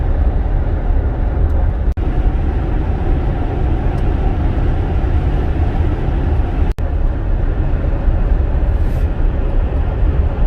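Tires hiss steadily over a salted, treated road in freezing Texas snow as a Tesla towing an RV drives along, a continuous loud broadband road roar with two brief dropouts and no talk.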